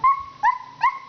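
A voice imitates a puppy barking, giving three short, high yipping barks in steady succession, close and clear with nothing else around them.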